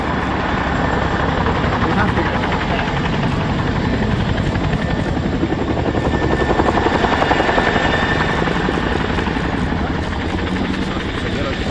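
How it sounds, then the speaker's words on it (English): Chinook helicopter flying a display at the 2024 Royal International Air Tattoo, a loud continuous rotor thump and engine roar throughout, with a voice talking over it. "please put your hands together for the 2024 Chinook roll demonstration"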